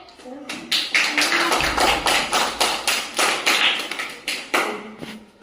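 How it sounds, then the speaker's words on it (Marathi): A group of children claps their hands in a classroom, a steady burst of rhythmic, close claps lasting several seconds, with voices in the background. "टाळ्या वाजवा रे"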